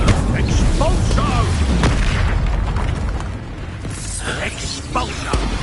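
Repeated Expulso spell explosions boom in Hogwarts Legacy, heavy low blasts and rumbling debris layered with combat clatter, loud and close, with voices shouting over the action.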